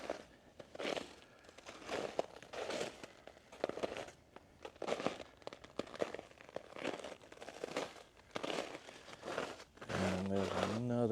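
Protective wrap crinkles and rustles as it is pulled off a windmill palm outdoors after an arctic freeze, in uneven bursts of crunching and tearing, with someone talking and a tonal beep near the end.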